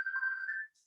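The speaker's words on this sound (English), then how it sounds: "oh, sorry, that's my phone, I'll turn it off." A mobile phone gives a single short electronic ringtone tone. It is faint and lasts under a second, then cuts off into near silence.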